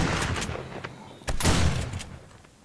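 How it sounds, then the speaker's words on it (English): Gunfire aimed at a biker zombie in 7 Days to Die, a string of loud close shots with a heavier burst about halfway through, set against a noisy game background. "let's shoot him in the face"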